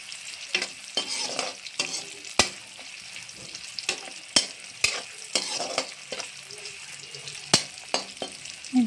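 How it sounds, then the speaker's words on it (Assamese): Dried red chillies and onion fry in oil in a pan, a continuous soft sizzle broken by repeated sharp scrapes and clacks of a spatula stirring, close up with no talking. "এতিয়া আমি একেখিনি তেলতে শুকান জলকীয়া আৰু পিঁয়াজখিনি ভাজি ল'ম।"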